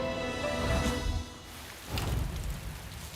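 Heavy rain falls as a steady broadband hiss that swells and dips over a few seconds, with faint music underneath.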